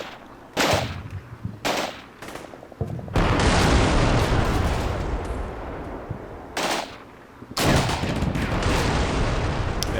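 Gunfire in the video game Combat Mission Black Sea, with loud close bursts of shots and rattling machine-gun fire, punctuated by booming impacts in irregular clusters, with no talk.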